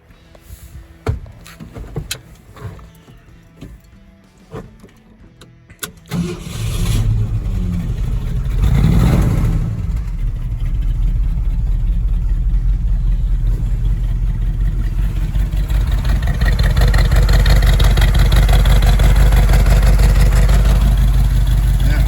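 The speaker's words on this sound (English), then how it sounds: "I'm gonna go ahead and get a cold start for you" A 1969 Ford F100 pickup engine starts from cold: a few short clicks and sounds, then the engine catches and settles into a loud, steady, close idle that runs to the end.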